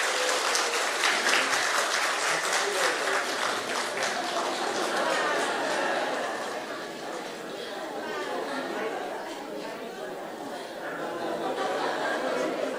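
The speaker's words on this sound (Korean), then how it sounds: "박수하겠습니다." Congregation applause during a Korean Sunday church service, steady clapping that softens midway and then swells again, with chatter and light laughter mixed in.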